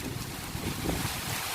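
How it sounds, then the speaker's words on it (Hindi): A strong wind blows steadily and loudly through the whole clip, close to the microphone and rumbling, with no voices. "एक तेज़ हवा चल रही है"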